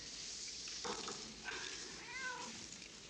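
A cat meows a few times in a quiet indoor setting, with short rising calls standing out over faint background hiss, clear but not loud.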